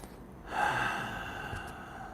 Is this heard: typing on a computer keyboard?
no